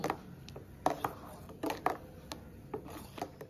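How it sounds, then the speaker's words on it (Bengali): A spoon stirs a lemon drink in a glass, giving irregular clinks and scrapes against the sides, close and fairly quiet, with several sharper taps in a loose rhythm. "তার জন্য আমি এখন চামচ দিয়ে এটাকে ভালো করে মিক্স করে নিচ্ছি"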